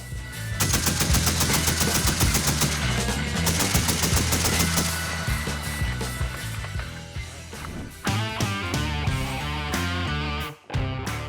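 A 12.7 mm caliber machine gun fires long, rapid bursts, loud and close, with dense repeated shots and echoing reports, then shorter bursts toward the end.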